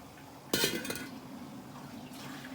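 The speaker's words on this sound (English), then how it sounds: "and you cover the lid." A metal lid clanks down onto a frying pan of dumplings with a sharp ringing hit, followed by quiet sizzling and a faint second rattle.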